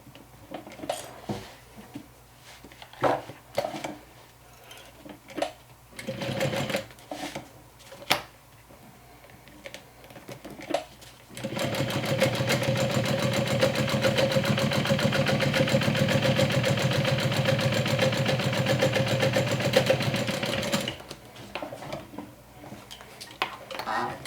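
Sewing machine top stitching along vinyl, a steady continuous mechanical whir that runs for about nine seconds after some quiet clinks and handling noises, close and fairly loud.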